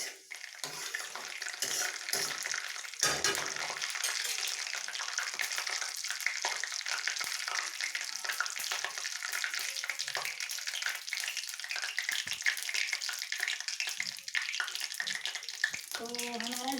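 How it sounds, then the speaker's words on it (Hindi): Cumin and nigella seeds frying in hot oil in a pan, giving a steady close crackling sizzle throughout with occasional stirring clinks. "अब इसमें हम हाफ टी स्पून जीरा डालेंगे, हाफ टी स्पून कलौंजी, और इसे 1 सेकेंड के लिए हमें भून लेना है पहले"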